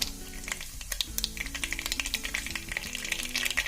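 Mustard seeds and dried red chillies fry in oil, with rapid sharp pops and crackles over a soft sizzle and a low background hum, heard up close.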